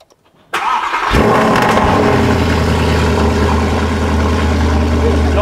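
A sports car engine fires up after a brief quiet moment, then settles into a loud, steady, deep rumble that carries close and continuous through the rest of the clip.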